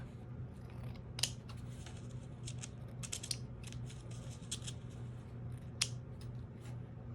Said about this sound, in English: All right, and then I'm gonna cut it off.